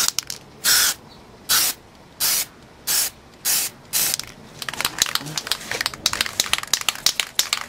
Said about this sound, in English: And with the respirator and being outside and all, we spray.